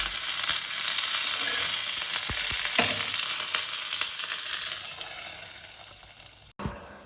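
Red chilies and curry leaves fry in hot oil on a stove, a steady dense sizzle running throughout with a few soft stirring clicks, then a brief break and a clatter near the end.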